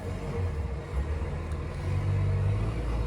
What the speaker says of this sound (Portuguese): Olha o caminhão passando aí, ó.